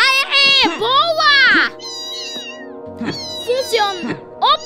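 Cats in the cartoon game Super Bear Adventure give loud, close, repeated meows, high and sliding in pitch, with some overlap between calls and a brief low hum under them.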